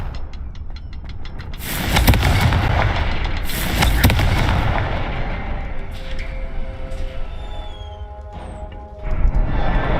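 A Confringo blasting spell fires in the Hogwarts Legacy video game, two loud booming bursts near two and four seconds over rumbling game ambience, followed by fainter clattering effects and a final burst at the end.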